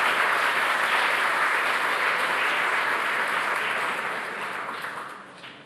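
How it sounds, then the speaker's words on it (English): Loud, dense applause from an awards ceremony crowd honoring a winning company, a sustained roar of many clapping hands that holds steady and then tapers off over the final second. "Let's have a round of applause for CCA."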